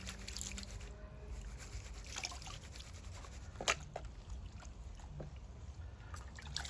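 Gold paydirt is panned in water, making soft sloshing and trickling with a few small splashes and clicks, quiet and close.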